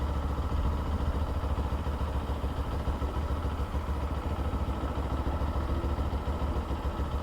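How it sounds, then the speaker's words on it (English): The combustion engine of a 2024 Kawasaki Z7 Hybrid motorcycle running, a fairly quiet, steady mid-pitched engine drone with light mechanical clatter that holds evenly throughout. "Now we have combustion engine."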